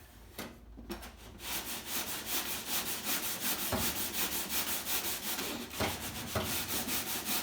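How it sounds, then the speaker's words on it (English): Hand-sanding the hood of a Fox Body race car: steady, rhythmic back-and-forth scraping strokes, loud and close, running continuously with a few brief pauses and knocks. "Been sanding for 15 minutes already."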